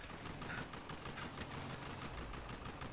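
Sustained turret gunfire in the video game Battlefield Hardline during a heist, a dense, steady crackle of rapid shots that fills the whole moment at a modest level.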